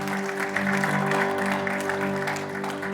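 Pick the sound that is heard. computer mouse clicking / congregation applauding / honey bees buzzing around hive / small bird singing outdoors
congregation applauding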